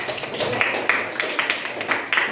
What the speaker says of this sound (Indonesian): Oke, kasih tepuk tangan buat Nadia.